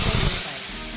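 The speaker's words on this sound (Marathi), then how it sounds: "मसाल्याला तेलात चांगला आपण परतून घेऊया" Ground masala and asafoetida hitting very hot oil for a sprouted horse gram curry, a brief loud burst of hissing sizzle that settles into a steady fry, close up.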